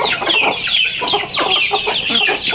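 Native free-range backyard chickens cluck and chatter close by in a steady, overlapping run of short calls, with no voices among them.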